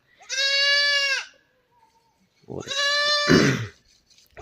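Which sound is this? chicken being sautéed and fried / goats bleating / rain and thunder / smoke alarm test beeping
goats bleating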